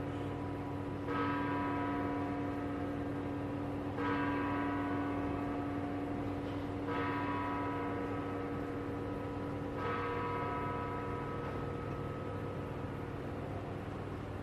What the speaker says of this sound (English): I'm going to let the bell finish ringing